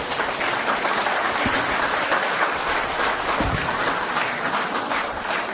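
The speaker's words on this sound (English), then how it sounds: "Round of applause for the panelists and the audience, please" A conference audience at an ESG summit applauds the panelists, a dense, even roar of many hands clapping that holds steady for the whole stretch, with a couple of low thumps inside it.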